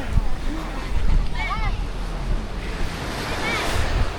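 Strong sea waves surge and wash with heavy wind noise close to the microphone, while voices shout and call out over the surf.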